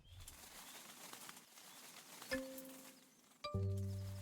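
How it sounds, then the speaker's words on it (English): A bird flaps its wings and settles to roost in the building game Tiny Glade, with a short flutter followed by a soft landing and brief tonal chimes over a quiet ambient background. "The bird decided to take roost."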